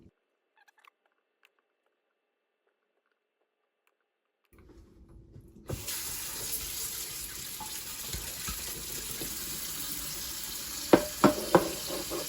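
Water running from a kitchen tap while cherry tomatoes are washed for canning, starting after several seconds of near silence and then flowing steadily, with a few clicks and knocks near the end.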